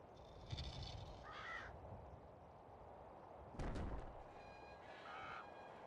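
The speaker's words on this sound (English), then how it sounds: "Go away, crows. No one likes you." Crows in the Xbox game Genie Reprise caw in short, harsh bursts, several calls spaced across the moment, mixed with deep booming thuds and a rumbling game soundscape.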